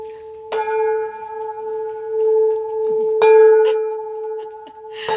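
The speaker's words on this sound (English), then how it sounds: "I'll leave you with the gong." A gong is struck several times at the close of a yoga session, each hit ringing out in long, steady sustained tones that overlap and linger.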